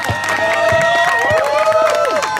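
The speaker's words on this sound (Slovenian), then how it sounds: "Po moje si zasluži še en glasen in krvak aplavz." Crowd at the finish area of a Lions Club charity run in Volčji potok claps and cheers for an accordion player, loud and sustained, with festive background music and voices mixed in.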